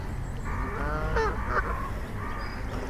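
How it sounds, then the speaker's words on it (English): Barnacle geese honking in a park, a few harsh calls rising over steady outdoor background noise, moderately close. "I guess it would be the barnacle geese."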